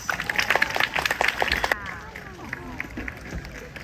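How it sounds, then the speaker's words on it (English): Applause from a zoo crowd for Petey, a crested bird at African Lion Safari in Ontario, a burst of many hands clapping up close that stops abruptly, leaving a quieter murmur of outdoor background noise. "let's see if we can get her crest up with a big round of applause"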